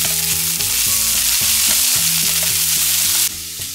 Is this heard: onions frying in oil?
yes